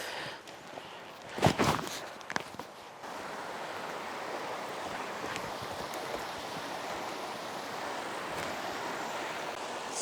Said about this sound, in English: Got this free-flowing stream with some rocks, with the moss.